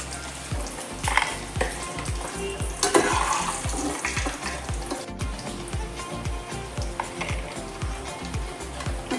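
Eggs sizzle steadily in hot oil in a pan for an egg roast curry, with a quick regular series of scraping stirs and clinks running through the whole span, close and fairly quiet.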